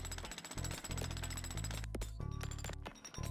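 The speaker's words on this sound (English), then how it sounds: "Really tell that there's a big increase in the power of the jackhammer" A jackhammer in the cleaning video game Sludgineers hammers loudly in a rapid, continuous pounding rattle with brief pauses and bursts, and no voices.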